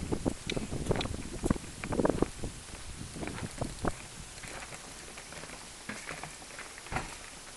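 Wind buffets a microphone outdoors while a small styrofoam drone flies, producing irregular gusty rumbles and bursts that are stronger early and ease toward the end, with no voices.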